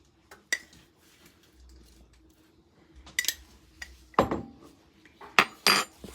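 Spoonfuls of homemade hot cocoa mix scooped into cups, with a few sharp clinks of a spoon against cups and dishes scattered through a quiet stretch, louder toward the end.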